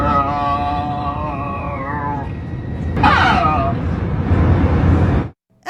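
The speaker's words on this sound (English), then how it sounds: "they heard moans and groans over the plane's PA system." Eerie moaning and groaning tones broadcast over the PA system of an American Airlines passenger plane flying from Los Angeles to Dallas, wavering pitched wails that slide and fade under steady cabin drone, then cut off abruptly near the end.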